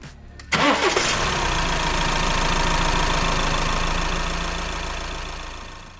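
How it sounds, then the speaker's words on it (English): An Audi A6 engine cranks briefly and catches after a moment of quiet, then settles into a steady, close idle that hums on evenly, with no talking. "And start the engine"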